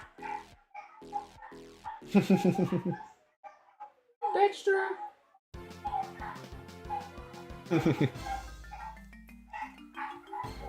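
A dog barks and whimpers indoors during a game-development livestream, with short yelps breaking through a voice talking over it and music running in the background.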